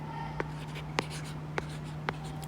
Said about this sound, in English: let's write this down again